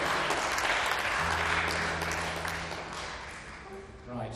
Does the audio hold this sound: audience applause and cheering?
yes